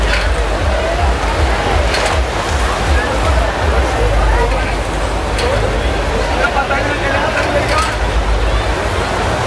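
Fast, heavy flow of the Ganges at a Haridwar ghat after rain in the Uttarakhand hills: a steady, loud rushing wash of water that never lets up, with faint voices in the background.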